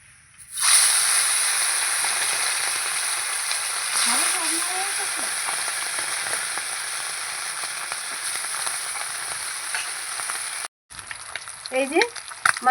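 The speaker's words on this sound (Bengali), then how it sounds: "এই যে এরকম কড়া করে মাছগুলো ভেজে নিতে হবে" Fish frying hard in hot oil, a steady dense sizzle throughout with occasional stirring clatter and a brief pause near the end before the crackle resumes.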